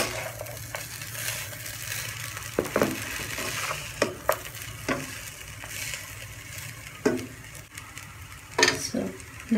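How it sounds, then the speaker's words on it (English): Cooked rice being stirred into a tamarind mixture in a pan, a steady soft sizzle and scraping with irregular clinks of a spoon against the pan, close and moderately loud, no voices. "Now mix the rice well along with this."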